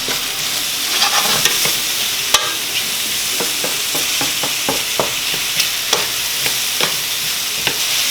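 Chicken pieces frying in a pan for chicken marsala, a constant close sizzle with scattered sharp scrapes and taps of a utensil stirring, no voices.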